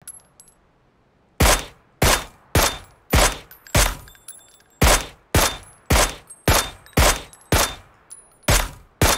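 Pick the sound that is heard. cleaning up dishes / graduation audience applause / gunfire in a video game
gunfire in a video game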